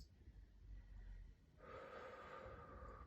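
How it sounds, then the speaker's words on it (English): A long, deep breath drawn in through the nose during a calm Pilates exercise, a soft airy rush swelling midway and holding steady, close and fairly quiet, with no talking. "But real deep breath into the nose"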